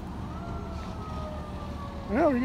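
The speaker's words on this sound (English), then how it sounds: "Hear the sirens." Fire truck sirens at a nearby fire: a siren wails faintly in the distance, then a louder rising-and-falling siren sweep cuts in at the end over background rumble.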